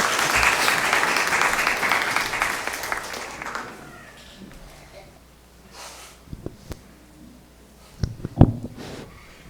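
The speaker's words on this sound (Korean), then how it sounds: "자, 한번 박수로 한번 또 영접해 보십시다" A church congregation at an Easter service claps to welcome a speaker, a loud burst of applause that fades after a few seconds, followed by a quiet room with scattered small knocks and shuffles.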